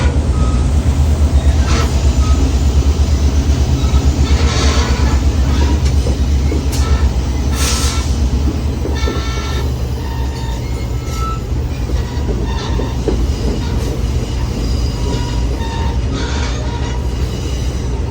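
A train with a 1947-built passenger car rolls steadily through a river gorge on the Hiwassee, with continuous loud wheel rumble and rail clatter, occasional squeals and clanks, and no talk.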